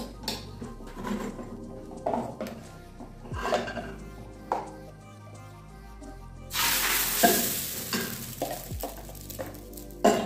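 A tapioca-batter pancake cooks in a small frying pan, giving a soft sizzle with occasional scrapes and pan knocks; the hiss swells brighter and louder partway through, close by and without talk.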